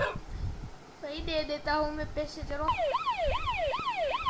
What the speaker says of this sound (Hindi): भाई इसका साइरन क्यों बज रहा है, हमने उसे छू अब तक भी नहीं।